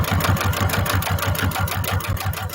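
Sewing machine stitching leather with a narrow foot at a 3mm stitch length, a fast, even mechanical chatter of repeated needle strokes running steadily, close and loud.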